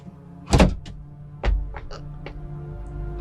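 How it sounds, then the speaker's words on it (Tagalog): A door opens with a sharp click and thunk of the latch, followed by a second knock and a few soft creaks and rattles, close by and quiet. "Pati pintuan binubuksan na."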